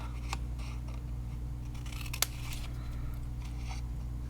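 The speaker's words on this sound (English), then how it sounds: "And then I'm going to cut up" Scissors snip through paper cardstock along score lines for a small milk carton box, a few quiet, close cuts over a steady low background hum.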